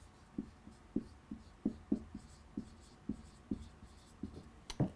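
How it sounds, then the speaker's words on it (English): A pen or marker writes on a surface in soft, close, rhythmic taps and short scratches, repeating about twice a second with no talking. "let me write this down"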